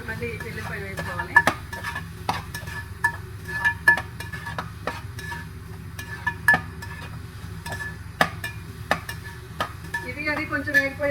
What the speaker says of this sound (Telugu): ఇప్పుడు ఉల్లిపాయలు కొంచెం వేగిపోయాక అల్లం కూడా వేసుకోవాలి